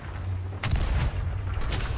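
Ship cannon fire in the pirate game Sea of Thieves: a deep boom around the middle rolls into a brief low rumble over steady ocean and wind ambience, with a second fainter thud near the end.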